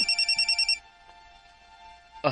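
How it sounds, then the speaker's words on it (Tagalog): An incoming call on a phone: a quick electronic ringtone pulses about eight times, then cuts off, leaving a faint hum before a short burst of noise at the end. "murag nanawag si Caroline"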